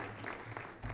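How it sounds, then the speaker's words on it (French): Applause from an audience at an outdoor New Year greetings gathering in rough weather: a brief, soft, steady patter of clapping heard from some distance, with no voices over it. "Je vous invite à les applaudir pour les remercier chaleureusement"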